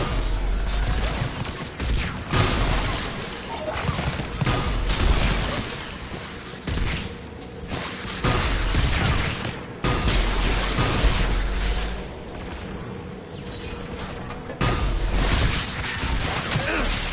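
Gunfire from automated tower defence guns in Mass Effect 3 rattles in dense, sustained bursts with heavy mechanical clatter and booming impacts, loud and continuous with only brief lulls.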